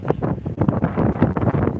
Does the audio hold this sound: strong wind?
yes